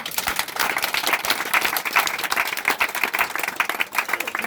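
Applause from a church congregation answering a call to acclaim during a French-language religious teaching session, dense steady clapping at close range throughout with no talk over it.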